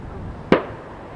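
A single distant fireworks bang rings out over a busy airport near a runway, arriving as one sharp report with a short decay above steady background noise.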